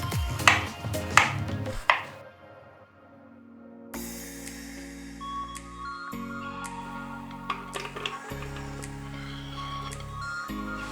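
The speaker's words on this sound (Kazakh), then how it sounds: "Тазаланған алма мен бананды бөліктеп турап блендерге саламыз" Peeled apple and banana being chopped into pieces, with three sharp knife strikes on a board near the start, then softer scraping and clattering as the pieces are moved, alone without talk.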